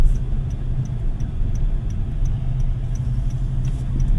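A steady, low engine drone from inside a 2025 Toyota Ativ with a 1.3-litre engine and CVT, accelerating, a continuous mid-pitched hum with faint ticking, no voices.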